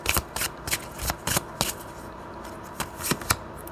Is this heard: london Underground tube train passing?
no